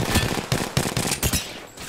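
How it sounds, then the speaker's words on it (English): Bursts of rapid automatic gunfire in Apex Legends aimed at the player, a loud close volley of shots in quick uneven clusters, with no talking. "Shots fired at me."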